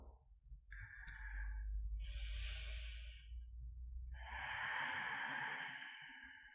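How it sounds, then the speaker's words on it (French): Deep breaths during a yoga kriya twist exercise, slow airy inhalations and exhalations close to the microphone, each long and breathy, over a low hum. "Quelques grandes respirations."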